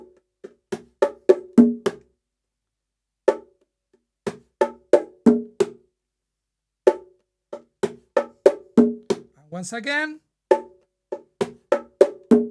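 Bongo drums play a rhythm mixing low strokes and open tones, sharp repeated hits in grouped patterns with short pauses, and a brief spoken phrase in the middle.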